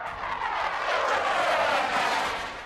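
A fixed-wing airplane passes at the Pocono Raceway Airshow, a steady broad engine roar swelling to a peak mid-pass and easing off slightly at the end, with no talk.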